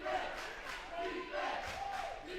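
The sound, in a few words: basketball game crowd cheering for the Eagles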